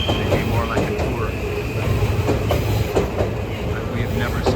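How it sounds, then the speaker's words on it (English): A Romance Car express train passes through Tokyo with a steady, loud rumble and a rhythmic clickety-clack of wheels on the rails, close by and continuous throughout. "There's another train, that's, I don't know what that is, some kind of an express train, I guess."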